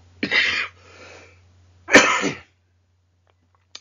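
A man with a cold gives two harsh, explosive coughs about a second and a half apart, close and loud against a quiet room with a low hum, the first trailing into a softer breath.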